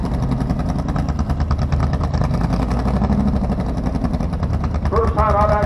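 Supercharged dual-quad Plymouth Barracuda drag car with automatic transmission idles loudly at a drag strip, a rough, steady engine rumble with a voice speaking over it.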